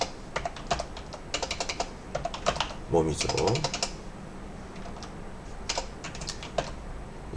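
Rapid clicking of computer keyboard keys in irregular bursts, with a brief spoken Korean phrase partway through noting that the keyboard sometimes fails to register keys; typing during a Bible study lecture.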